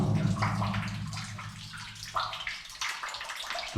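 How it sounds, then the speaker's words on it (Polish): Water running and splashing from a stalactite inside an old mine adit with rust-coloured deposits, a steady close trickle with gurgling bursts, no talk over it. "z tego stalaktyta jak woda leci"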